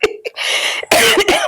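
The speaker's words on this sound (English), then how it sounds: "I got this cough" A man on a podcast coughs several times in a row, harsh and close to the microphone, with the loudest bursts near the end.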